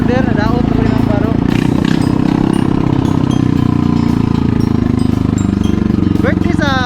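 Motorcycle with a loud, recently changed exhaust at a family birthday gathering in Buhangin, Davao, its engine droning and revving close by under near-constant talking.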